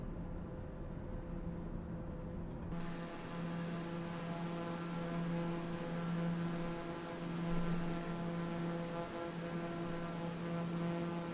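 A TBM930 turboprop engine in Microsoft Flight Simulator 2020 drones steadily with a strong tonal hum and high whine, holding a continuous even level throughout with a slight shift in pitch early on.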